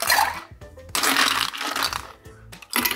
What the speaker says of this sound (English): Plenty of ice and give it a shake.